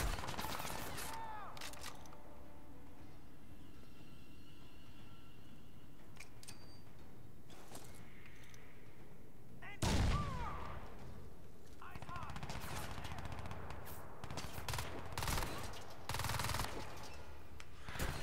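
Gunfire in the video game Crysis 2, with bursts of rapid shots cutting in and out over steady background game noise, louder and denser in the second half.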